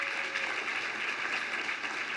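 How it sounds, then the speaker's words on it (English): Steady, dense applause from a luncheon audience honoring housing award nominees, a continuous wash of many hands clapping in a large room with no talking over it. "Can we get another round of applause for all of the nominees?"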